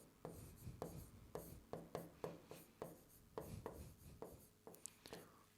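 Marker or pen writing out a costing format on a board in a classroom: a steady run of short scratchy strokes, about a dozen in quick rhythm, close and fairly quiet, with no talk over it.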